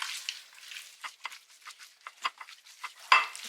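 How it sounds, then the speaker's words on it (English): Chicken breast being stirred with olive oil and seasonings in a bowl, soft irregular wet scraping and clinking strokes close by, with one sharper knock near the end. "just mix it all together until all the ingredients combine"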